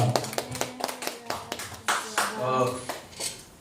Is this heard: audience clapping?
yes